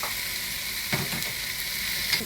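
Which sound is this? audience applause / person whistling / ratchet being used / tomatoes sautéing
tomatoes sautéing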